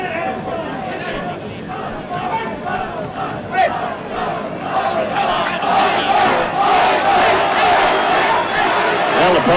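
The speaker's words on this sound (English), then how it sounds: "The crowd is chanting its disapproval." A boxing crowd at the 1973 Carlos Monzón vs Emile Griffith rematch chants in disapproval, a dense, rhythmic roar of many voices that swells louder in the second half and holds steady to the end.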